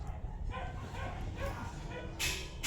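Dogs barking and yipping in a repeated, irregular run at moderate distance, with a sharper louder burst near the end and steady low background rumble throughout.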